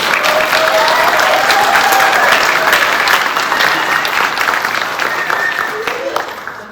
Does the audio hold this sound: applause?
yes